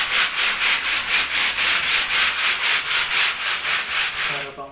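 Coarse number 60 sandpaper is rubbed back and forth on a surface in steady, even strokes, a loud rasping scrape repeating about four times a second and then trailing off.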